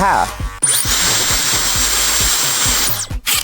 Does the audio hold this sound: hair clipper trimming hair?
yes